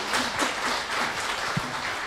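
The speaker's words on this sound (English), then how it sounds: "So give Katrina a round of applause" Steady applause from an audience, a dense wash of clapping hands that holds at an even level throughout.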